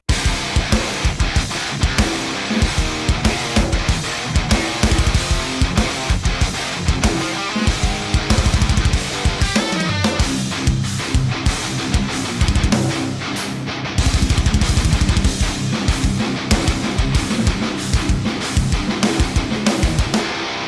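Heavy, saturated metal guitar chugging along with pounding drums, loud and dense throughout, with a brief drop before the full band kicks back in.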